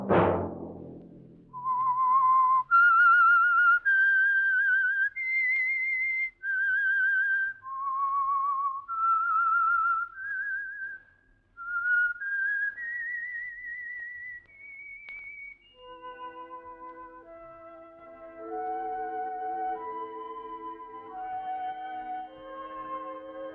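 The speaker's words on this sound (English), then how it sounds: "Let that whistle be your signal for the Signal Oil program, The Whistler." Whistled theme signal for The Whistler radio drama, a clear solo melody of sustained, sliding notes rising and falling, then settling into a steadier repeated tune with soft accompaniment beneath, loud and close.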